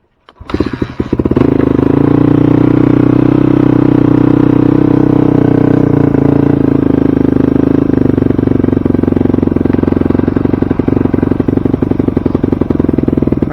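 A 2006 Yamaha WR250F dirt bike with a dead battery and the choke on fires up within the first second and settles into a loud, steady, rattly idle that runs close by, with no talk.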